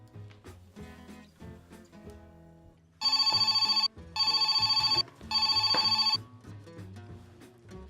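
A telephone rings in three long electronic bursts, loud and close, over quiet background sounds.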